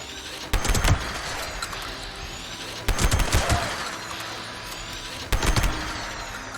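Shotgun fitted with a hex barrel mod firing in Fallout 76, three loud sharp bursts of rapid blasts spaced a few seconds apart over a constant background rumble.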